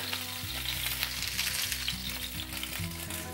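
Salmon searing in a hot frying pan, a steady loud sizzle and crackle of frying fish, continuous and close with no talking.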